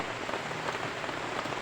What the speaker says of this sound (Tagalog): sobrang ulan talaga dito sa bundok ngayon